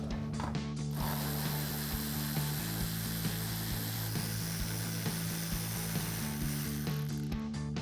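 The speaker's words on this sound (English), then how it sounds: "Now we got 2 more bolts that we're going to remove with our 8mm socket." Power ratchet with an 8mm socket removing fender-liner bolts on a 2009-2018 RAM 1500, heard as a continuous, loud, close mechanical whirring chatter for several seconds, with brief clicks at the start and end, and no talk.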